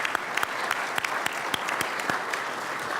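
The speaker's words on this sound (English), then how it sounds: "I'd also like to ask you to join me in a round of applause for these" An audience at a think tank exercise Q&A gives a round of applause, a dense patter of many hands with sharper individual claps standing out, loud and steady throughout.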